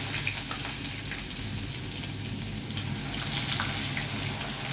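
Asafoetida goes into hot oil already holding fenugreek, mustard seeds, cumin and dried and green chillies for a Gujarati tempering. A steady, soft sizzle and crackle hisses continuously with no voice over it.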